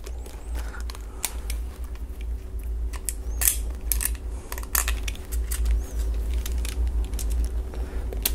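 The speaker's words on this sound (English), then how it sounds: "And then we're just going to screw it together." Screws driven back in to reassemble a Shotmarker electronic target part, working against a magnet, produce a run of small sharp clicks and scrapes at an uneven rhythm, close up and with no voices.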